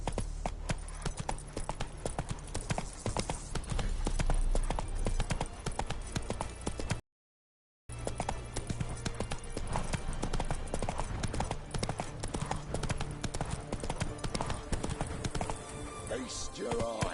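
Roach the horse trots in the video game The Witcher 3: Hearts of Stone, with rapid, even hoofbeats that clip-clop loudly and continuously, broken by a short gap of silence midway.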